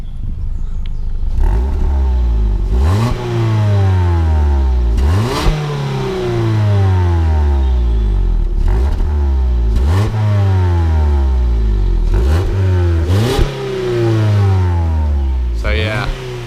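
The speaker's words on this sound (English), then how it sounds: "Let's get a nice sound of the exhaust." A car exhaust revving loudly and repeatedly, each blip of the throttle rising and falling in a steady rhythm, close to the microphone.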